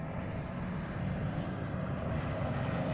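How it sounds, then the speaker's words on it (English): Military aircraft in formation, including a dual-engine Bearcat, roar past overhead as a steady, dense engine drone that swells slightly and holds loud for the whole stretch. "these guys are flying through. They're in formation with a dual engine version of a Bearcat"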